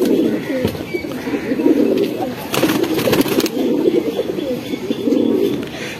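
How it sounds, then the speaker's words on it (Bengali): A female pigeon in a home loft in Hemayetpur coos repeatedly in low, rolling phrases, with a brief flurry of rustling and flapping in the middle and more cooing after it. "তো ভাইয়ের বাসার এলো আরেকটি মাদি কবুতর।"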